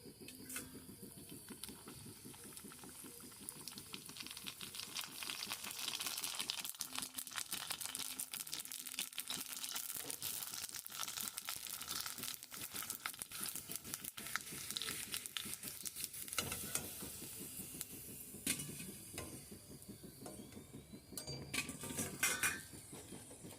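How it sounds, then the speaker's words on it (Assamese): Puchka puris frying in hot oil in a kadai give a continuous crackling, bubbling sizzle at close range, mixed with occasional clinks of a utensil against the pan throughout. "এয়া মই কেৰাহীত তেল গৰম হ'বলৈ দিছিলোঁ আৰু এতিয়া মই পুচকাখিনি ভাজি ল'ম"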